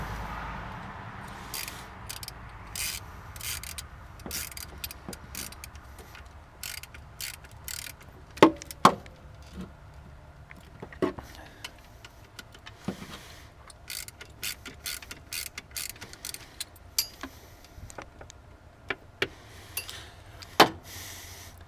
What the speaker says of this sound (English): just tighten the bolt.